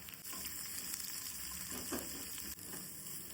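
Sliced onions and green chillies fry softly in a pan, giving a faint, steady sizzle with a few light stirring sounds and a small clatter partway through; no voices.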